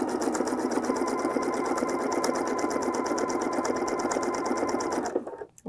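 A sewing machine runs a continuous zigzag stitch attaching fold-over elastic to fabric, a fast, even mechanical whirring and ticking heard up close that stops abruptly near the end.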